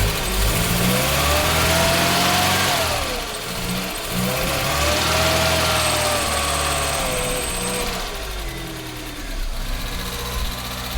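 Austin Ambassador engine running cold without the choke, a loud close uneven idle whose pitch rises and dips as it revs and hunts, with no talk over it.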